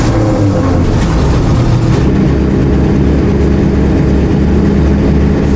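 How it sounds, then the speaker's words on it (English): A dump truck engine runs steadily at a snowy house restoration site, a loud, continuous low rumble with no talk over it. "I need to go dump the dump truck"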